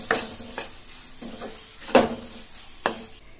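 Banana and semolina being sautéed in a pan, with a handful of distinct scrapes and stirring knocks against the pan over a faint background sizzle, close by and without talk.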